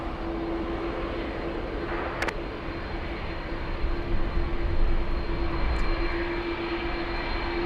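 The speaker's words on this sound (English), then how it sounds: "Next arrival is the A350 1000 flying in from Heathrow." Airbus A350-1000 airliner on final approach into LAX after a flight from Heathrow, a steady, moderately loud engine roar with a constant hum that swells slightly midway, no voices present.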